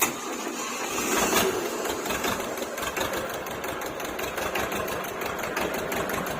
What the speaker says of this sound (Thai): อ่ะเดี๋ยวติดเครื่องฟังดู